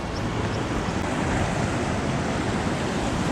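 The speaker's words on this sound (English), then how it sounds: "Oh, the River Taff looks very fast flowing." The fast-flowing River Taff rushes in a loud, continuous broadband roar, steady and close, with no talk over it.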